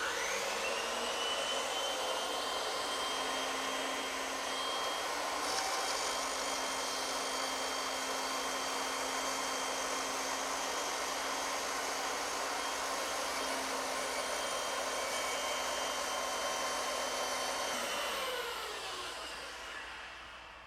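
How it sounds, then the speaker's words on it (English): A bandsaw runs steadily while cutting curved side pieces for a wooden rocking horse, a loud continuous whine with a sustained tone that holds for about eighteen seconds before spinning down at the end. "But ideally, it's nice to have a bandsaw like this one."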